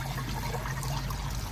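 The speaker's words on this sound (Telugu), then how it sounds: "సరిపోద్ది కదా వాటర్ స్ప్రే." Water mixed with disinfectant sprayed in a poultry shed, a faint steady hiss of spray with soft trickling, continuous and without talk.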